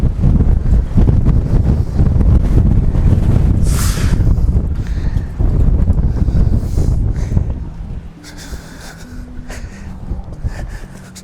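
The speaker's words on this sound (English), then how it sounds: "that wind is blowing. It's over 20 knots." Strong wind over 20 knots buffets the microphone outdoors during a 1998 Chevy C1500 V6 power steering pump install, a loud continuous roar with gusting swells that eases slightly near the end.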